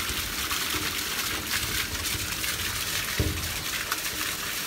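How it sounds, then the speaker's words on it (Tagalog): Strong rushing water pours steadily with a motor problem, a continuous broad hiss with a brief thump partway through, no voices. "Ang lakas ng tubig."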